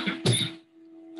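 A man lecturing in a classroom gives a short double cough, close and fairly loud, with a brief pause before he resumes.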